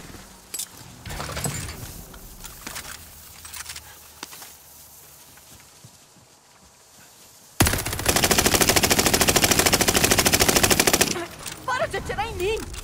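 Gunfire in Call of Duty: Modern Warfare, with scattered single shots and short bursts early, then a loud sustained automatic-weapon burst for several seconds, followed by further sharp effects.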